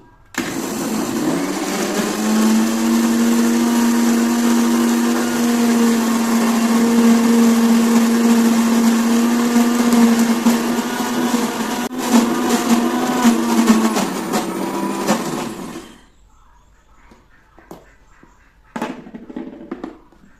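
Electric mixer grinder blending onion for a hair-care mixture, a loud steady motor whine running for about fifteen seconds alone, then cutting off to near silence with a few faint clicks.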